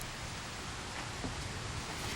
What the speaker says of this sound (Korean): 먹구름이 무서운 기세로 몰려들더니 결국 한바탕 쏟아내기 시작하네요.